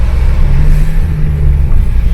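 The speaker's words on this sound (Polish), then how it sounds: "No i tu jest wyścig tirów, który zawsze uwielbiam, spod bramek, chłopcy ruszyli." Lorries pull away from motorway toll gates in a race, giving a loud, low diesel engine rumble that holds steady for a couple of seconds with broad road noise. No one speaks.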